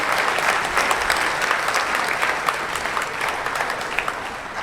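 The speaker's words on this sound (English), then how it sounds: "Can we please give a big round of applause for all of our awardees?" A fundraising gala crowd applauds its awardees with a big, sustained round of clapping, loud and steady from start to finish, with sharp individual claps standing out and no talking.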